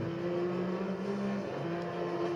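A race car engine in Need for Speed Undercover holds a steady, moderately loud drone with slight pitch shifts, no voices over it.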